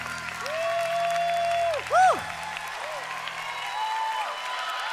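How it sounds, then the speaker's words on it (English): A church audience applauds, a steady broad patter of clapping mixed with sweeping electronic tones and a brief louder burst midway. "Let's give a big round of applause"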